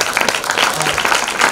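Audience applause at a panel conversation, a dense, continuous wash of many hands clapping at once, fairly loud and steady throughout, with no clear voices.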